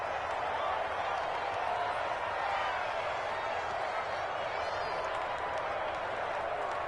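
Steady crowd applause and clapping in a PS4 American football game roll on as a continuous, fairly faint wash of noise, with a commentator's voice faintly underneath.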